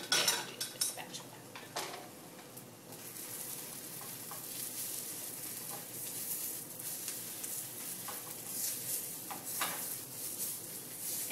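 Breakfast eggs pushed around a hot pan with a spatula: steady sizzling frying under repeated metallic scrapes and clinks of the utensil against the pan, fairly close.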